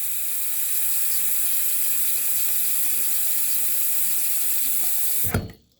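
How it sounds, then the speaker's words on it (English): Tap water runs steadily into a sink while hand-washing a Nike ski mask and an Under Armour skull cap, a loud continuous rushing hiss that cuts off abruptly near the end. "once you get like a little bit of water in your sink"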